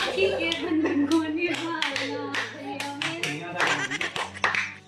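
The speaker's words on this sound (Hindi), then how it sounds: "मेरी सिस्टर की दो छोटी छोटी बेटियां थी जो ज़ोर ज़ोर से तालियां बजा रही थी" Two little girls clap their hands loudly in a quick, uneven run of sharp claps during a Raksha Bandhan family celebration, with steady humming and a voice underneath.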